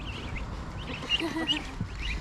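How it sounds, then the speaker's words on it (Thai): A few short nasal quacking calls from a duck, close by, over a steady low background rumble. "เออเป็ดแล้วเว้ย"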